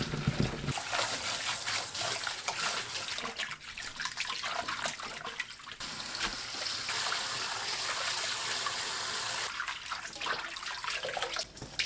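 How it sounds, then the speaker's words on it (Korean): Cold tap water runs steadily over blanched chamnamul greens in a kitchen sink, a continuous close splash and trickle with brief shifts as the greens are moved under the stream. "40초 데치고 바로 찬물에 헹굽니다"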